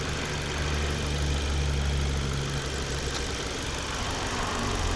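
A 2010 Volvo V50 with a 1.6 petrol engine idles smoothly and quietly, a steady low hum with an even, unchanging tone throughout and no other sounds.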